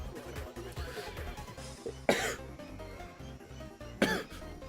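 A person coughs twice, sharp close bursts about two seconds apart, over a steady background of low rhythmic music or noise.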